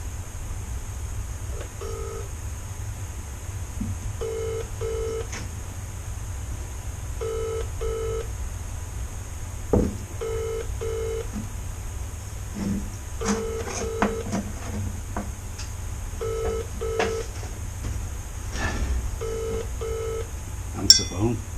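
A telephone call being dialed, with several short bursts of touch-tone beeps in a repeating rhythm, faint clicks and handling noises between them, and a low steady hum underneath.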